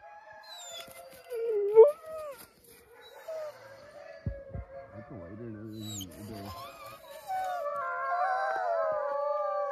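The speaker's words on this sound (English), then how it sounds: "These are dogs." Canadian Inuit dogs howl and wail at a winter camp on Lake Superior, several rising and falling voices overlapping, near and moderately loud, with brief yips between howls.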